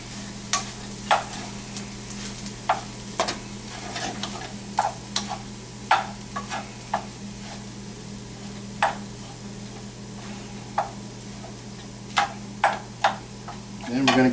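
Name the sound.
stirring rice with powdered black pepper in a pan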